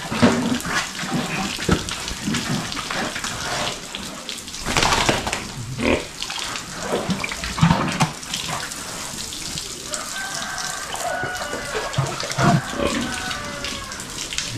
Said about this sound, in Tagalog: Ito po yung hybrid na baboy.